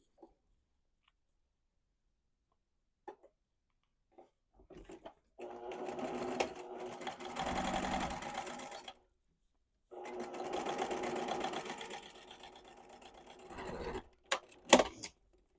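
A sewing machine stitching the final curved seam of a child's peasant-style dress, two sustained runs of rapid mechanical chattering separated by a short pause, followed by a few clicks as it stops.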